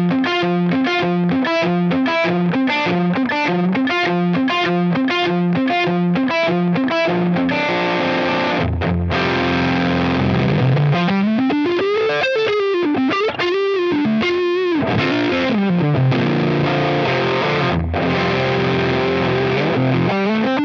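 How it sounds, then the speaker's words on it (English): Heavily distorted electric guitar, a Strat through a Rat distortion pedal, plays a rhythmic chugging riff, then sustained bending notes, thick and saturated, with no voices. "that's such a big full distortion sound"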